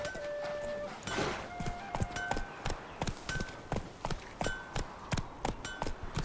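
Roach the horse gallops in The Witcher, hooves clopping in a steady rapid rhythm over a constant background bed, close and fairly loud throughout.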